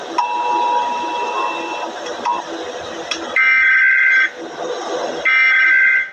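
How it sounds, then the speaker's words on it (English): Steady electronic alert tones sound in long bursts, switching pitch, with a voice talking underneath. "a graphic accompanied with beeping comes on the screen"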